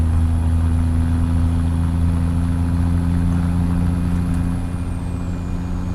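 A Peterbilt 389 truck engine in a trucking simulation game drones steadily with a deep, even idle hum and faint high whine, holding constant before easing slightly near the end.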